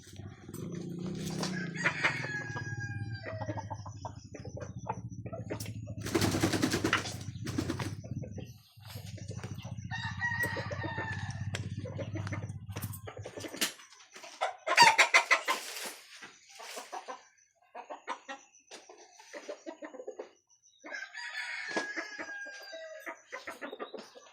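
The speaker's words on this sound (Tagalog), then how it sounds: "Sa mga alaga natin, manok." Chickens cluck steadily while a rooster crows several times, the birds close by and fairly loud, with the calls overlapping throughout.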